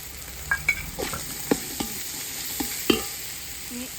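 Cooked chicken stirred into fried rice in a pan, with a few distinct scraping stir strokes and soft clatters over a faint, steady sizzle, close and fairly quiet.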